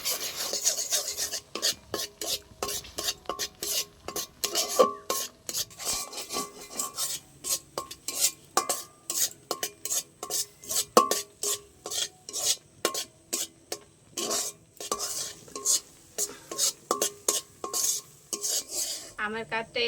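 Raw mango mixture for sweet yogurt being stirred in a pan, a quick run of rhythmic scraping strokes of spoon against metal, close and fairly loud, alone without speech.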